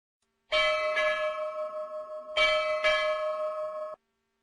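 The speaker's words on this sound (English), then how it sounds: "A bell at the bow, and a gong at the stern sound at 1 minute intervals." A ship's bell at the bow of a vessel at anchor, struck twice in quick succession, then after a pause struck twice more, each stroke sustaining a clear metallic tone before cutting off.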